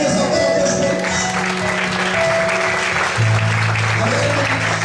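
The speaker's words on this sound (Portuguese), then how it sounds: "Você pode aplaudir e exaltar a Deus por isso." A church congregation applauds in sustained, dense clapping during a worship service, with sustained organ or keyboard tones underneath and the hall sound filling the space throughout.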